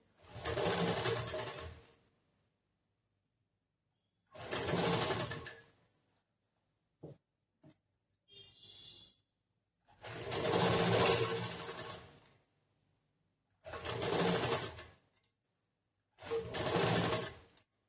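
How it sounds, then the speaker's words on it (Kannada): A sewing machine stitches cloth around a blouse piece at a quarter inch margin in several short bursts of whirring, with small clicks and handling noises in the pauses between runs. "ಇಟ್ಕೊಂಡು ಸುತ್ತಲಿ ಕರೆಕ್ಟ್ ಆಗಿ 1/4 ಇಂಚ್ ಮಾರ್ಜಿನ್ಗೆ ಹೊಲಿಗೆ ಹಾಕೊಂಡ್ ಬರ್ಬೇಕು"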